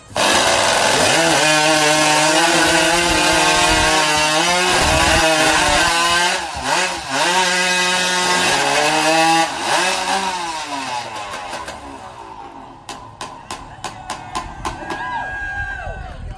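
Women's standing block wood chopping competition: after a start call, many axes strike timber in fast overlapping chops under loud crowd noise and an engine-like roar, thinning to sparser, separate blows near the end.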